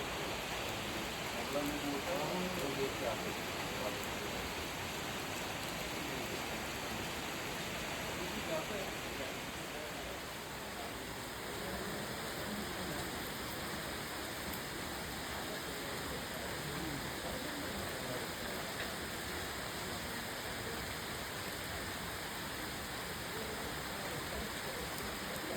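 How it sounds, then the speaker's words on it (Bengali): Heavy rain pours steadily around a British heritage homestay in the woods of Darjeeling, a dense, even hiss that stays constant throughout with no other sounds standing out. "আওয়াজটা শুনুন বৃষ্টির শুধু।"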